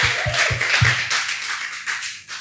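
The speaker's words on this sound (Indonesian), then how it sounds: "Ya boleh tepuk tangan." Church congregation at a service clapping, a few sharp claps at the start giving way to a dense patter of hands with scattered cheering, fairly close and loud.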